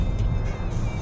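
A car driving over an expansion joint on the JORR toll road in Jakarta, heard from inside as a loud, steady low road rumble with faint thumps, no voices.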